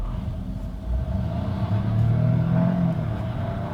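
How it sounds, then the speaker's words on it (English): A Lynk & Co 01 plug-in hybrid pulls away hard from traffic lights with its combustion engine and electric drive working together, heard from inside as a steady, loud engine rumble that swells as it accelerates. "we can also do power acceleration now from the traffic lights"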